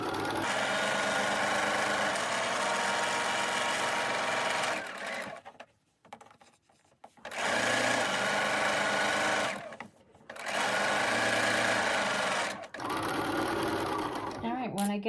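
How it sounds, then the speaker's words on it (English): A sewing machine stitches a pillowcase in long, loud, steady whirring runs broken by short pauses, with a voice talking faintly underneath. "I'm going to sew right up to here on my machine."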